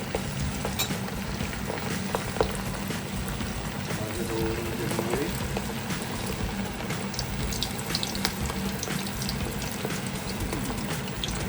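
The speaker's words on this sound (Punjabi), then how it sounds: "ਹੁਣ ਤੇਲ ਹੋ ਗਿਆ ਗਰਮ ਇਹਨੂੰ ਆਪਾਂ ਫਰਾਈ ਕਰ ਲੈਣਾ ਹੁਣ ਮਸਾਲੇ ਲਾ ਕੇ ਰੱਖਿਆ ਸੀ ਨਾ ਜਿਹੜਾ ਮੀਟ ਇਹਨੂੰ ਹੁਣ ਆਪਾਂ ਫਰਾਈ ਕਰਾਂਗੇ" Marinated chilli chicken pieces frying in hot oil, a steady broad sizzle and bubbling that runs the whole time with occasional clinks of a utensil, close and fairly loud.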